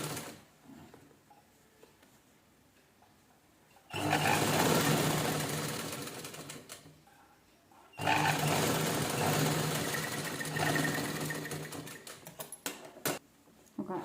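Sewing machine stitching the sleeve of a velvet blouse in two bursts of rapid, steady whirring, each running about four seconds, separated by quiet pauses and a few faint handling noises.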